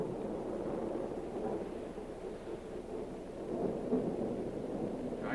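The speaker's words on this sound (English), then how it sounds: "Starting to rain." Low thunder rumbling steadily as rain begins, a dull continuous roar that swells toward the end, with no voices.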